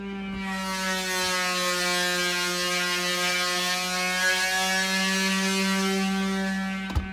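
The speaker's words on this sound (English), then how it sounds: "Sanding all the cabinet doors and drawer fronts." A steady electric sander working on wooden cabinet doors and drawer fronts outdoors drones on continuously, a loud, even mechanical hum with a buzzing tone that holds without pause, then cuts off abruptly at the end.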